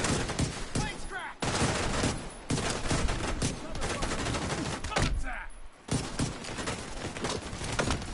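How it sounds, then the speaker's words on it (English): Dense gunfire from a Division 2 firefight on PS5, bursts of rapid automatic shots and volleys nearly nonstop, loud and close, with brief gaps between flurries. "Across the way they're shooting at me."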